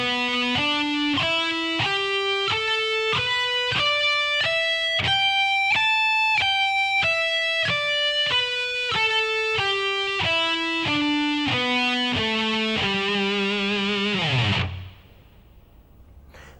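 Electric guitar plays a scale slowly, one sustained note at a time climbing then descending in even steps, bright and harmonically rich, ending with a held low note that cuts off into quiet.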